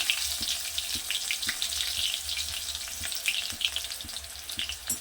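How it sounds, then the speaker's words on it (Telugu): Chopped onions frying in hot oil in a kadai for a Telugu bagara baingan recipe, a steady close crackling sizzle with faint scraping taps throughout and no talk. "ఆయిల్ హీట్ అయిన తర్వాత కట్ చేసిన ఆనియన్స్ ఇందులో"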